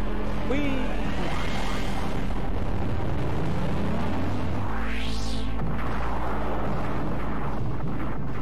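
Explosion during the escape sequence of Metroid Zero Mission, played on a Game Boy Player: a dense, continuous rumbling roar with rising and sweeping synthesized tones, loud throughout and without pauses.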